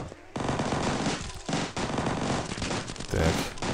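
Gunfire in the zombie shooter game Zombie Forest HD rattles in dense, loud bursts that run almost continuously, broken by a couple of brief gaps, with no talking.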